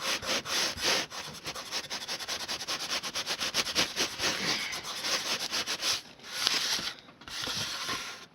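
Paint rag rubbed over a canvas to spread paint, continuous rapid scrubbing strokes, close and fairly loud, with brief pauses near the end.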